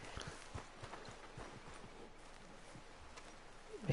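Horse hooves clip-clop steadily on the ground in the Red Dead Redemption 2 video game, a close, even rhythm of hoof falls under faint outdoor ambience with no talking.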